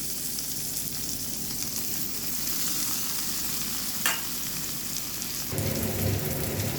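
Dried chillies, nigella seeds and chopped onion sizzling in hot oil, a dense even hiss with a sharp pop midway and a louder, heavier crackle as more goes into the pan; no voices.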